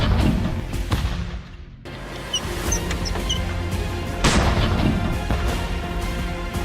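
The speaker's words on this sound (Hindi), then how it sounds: "रूस ने यूक्रेन पर कई तरफ से आज तोपें दागी हैं" Artillery fires in Russia's shelling of Ukraine: heavy, dull booms and bursts land one after another over a constant rumbling background, with a few faint bird chirps in between.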